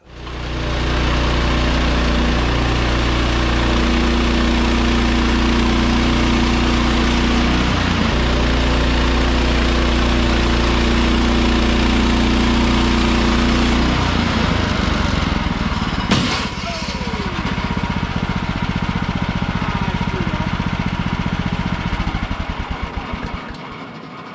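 A Woodland Mills HM130Max Woodlander sawmill runs loud and close, its engine droning steadily with a spinning blade whine. The tone shifts midway with a sharp clatter, then the engine keeps running until it cuts off.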